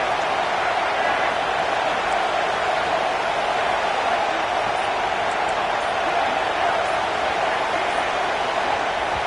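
A dense, steady crowd roar from a home stadium crowd in a college football video game (CFB 26) on a third-and-goal against Texas fills the whole stretch, loud and unbroken, like a packed stadium with no clear voices standing out.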